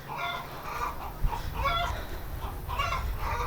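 Several homestead chickens cluck and murmur near a barn and side yard, with overlapping bursts of clucking repeating every second or so against a low outdoor rumble, close and without talk.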